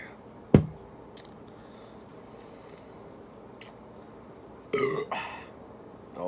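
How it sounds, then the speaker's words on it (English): A man belches after chugging a non-IPA beer, with a sharp gulp or click early, a few small clicks, then a longer rough burp near the end in a quiet room. "Always got that beer belch coming back up."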